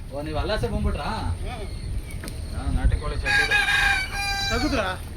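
Country chickens cluck near and under steady talk, and a rooster gives a loud, drawn-out crow toward the end.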